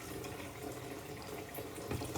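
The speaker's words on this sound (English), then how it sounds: "Put a bit of cold water on the eggs, right?" Cold tap water runs steadily over boiled eggs in a kitchen sink, a continuous soft splashing stream, fairly quiet, with no talk.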